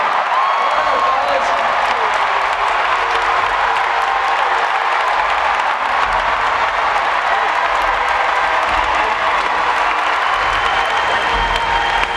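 Large convention audience at a D23 Disney panel bursts into sustained applause and cheering, dense clapping with whoops, loud and steady throughout.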